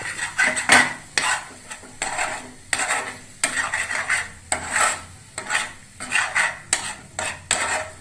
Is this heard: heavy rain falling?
no